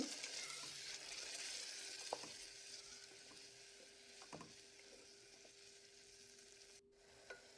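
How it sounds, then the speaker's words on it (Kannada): Ginger garlic paste fries in oil with a steady, fairly quiet sizzle, broken by a few soft stirring scrapes and clicks, with no talking. "ಶುಂಠಿ ಬೆಳ್ಳುಳ್ಳಿ ಪೇಸ್ಟ್ ಹಸಿ ವಾಸನೆ ಹೋಗೋ ತನಕ ಎಣ್ಣೆಯಲ್ಲೇ ಫ್ರೈ ಮಾಡ್ಕೋಬೇಕು"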